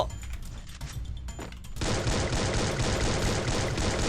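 An M14 rifle fires in the video game Garena Free Fire, setting off a loud, dense burst of rapid shots that runs without a break after a quieter stretch of game ambience.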